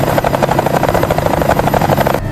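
A helicopter rotor turns during autorotation without engine power, making a loud, steady, rapid chop throughout that cuts off abruptly at the end.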